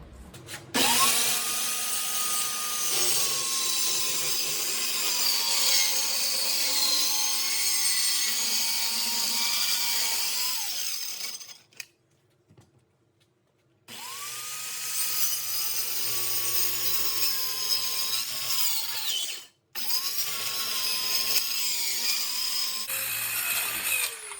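A corded power saw, favored for convenience, cuts out a shape during repairs on a Jacobsen Chief 800 garden tractor, running loud and steady in two long passes with a brief stop between and a short pause near the end.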